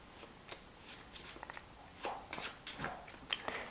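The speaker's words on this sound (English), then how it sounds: "Shuffle the cards." Playing cards being shuffled close up, a run of quick papery riffles and flicks with brief pauses between bursts, no talking.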